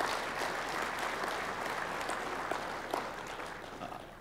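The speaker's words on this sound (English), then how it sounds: "I forgot about the applause" Soft, sustained applause from an audience at a conference opening session, even and moderately distant, slowly fading slightly toward the end.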